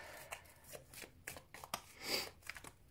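Tarot cards are shuffled by hand in a series of quiet, crisp riffles and slaps, irregular in rhythm and close by, with no talking over them.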